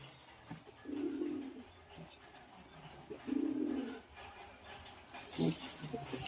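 A Royal Teddy pigeon kept in a home loft, where a bird has just laid an egg, lets out two faint, low, rolling coos, a couple of seconds apart, with soft rustling and a sharp knock near the end.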